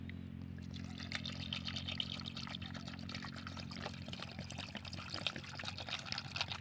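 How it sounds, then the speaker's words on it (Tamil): Water is poured into a pot of freshly gathered snails until they are covered, ready for boiling: a steady, continuous trickling pour, close and moderately soft, over a low background hum. "இந்த நத்தை முங்குற அளவுக்கு நம்ம இது உள்ளே இப்போ தண்ணி ஊற்ற போகிறோம்"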